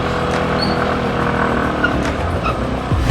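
A car pulls away, its engine rising in a steady drone with a brief tire scuff near the end, heard close and fairly loud without talk.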